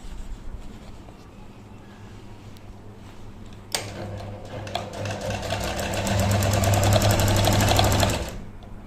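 A sewing machine stitches a sleeve into an armhole, running in a fast, steady mechanical whir that starts abruptly partway in, grows louder and denser, then stops cleanly near the end.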